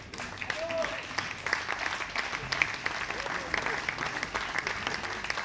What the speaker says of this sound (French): On applaudit Gaëtan.